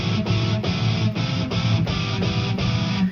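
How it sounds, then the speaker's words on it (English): Odysseus' melodic motif played on guitar in a minor key, a dense, steady run of repeated plucked notes over a low sustained bed, loud and continuous without speech. "this is Odysseus' melodic motif."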